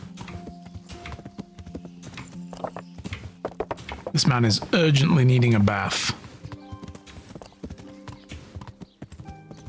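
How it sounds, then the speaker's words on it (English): In the Kingdom Come: Deliverance video game, horse hooves clop in a quick, steady beat, with a neigh partway through. Someone talks over the hoofbeats. "I'm gonna ride the horse into town. At high speed."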